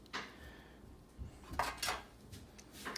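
The bolt assembly of a Ruger Mark IV Hunter pistol drops into the back of the frame, giving a few light metallic clicks and scrapes close by in a quiet room.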